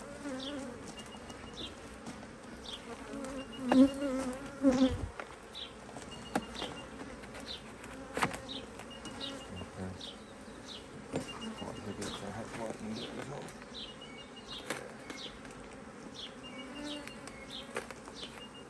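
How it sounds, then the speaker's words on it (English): Honeybees from a small teacup swarm hum inside a hive during an early spring inspection, a steady low buzz with occasional louder passes of individual bees close by and faint rustling throughout. "the bees in here originally was a teacup swarm"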